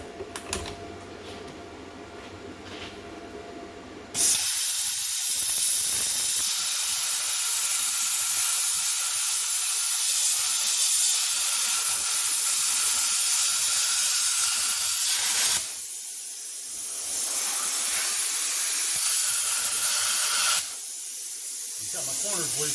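A cheap pilot arc plasma cutter slices through metal with a loud, steady, close hissing roar that runs for about eleven seconds, pauses briefly, resumes, then cuts out again.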